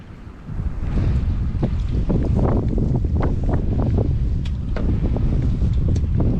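Strong outdoor wind buffets the microphone in a swamp on a cold day, a loud, continuous rumbling roar with gusty surges and no speech.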